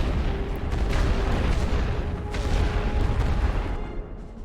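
Heavy artillery shelling an enemy trench in the World War I strategy game The Great War: Western Front, heard as a dense, continuous low rumble of overlapping booms with no talking.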